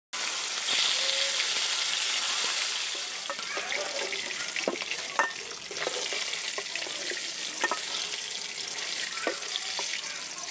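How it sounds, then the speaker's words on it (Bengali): Fish, hilsa, sizzles in hot oil in a wok, a steady bright crackling hiss with scattered pops and occasional clinks of a utensil, moderately near and without talk. "এখন মাছটাকে তেলের মধ্যে ছেড়ে দিয়ে ভালো করে ভেজে নিবে"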